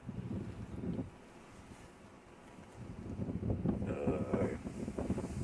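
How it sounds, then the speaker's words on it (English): Strong wind buffets the microphone outdoors by the sea in the early hours, a steady low roar that dips briefly then builds into heavier gusts, with faint water noise beneath. "Windy."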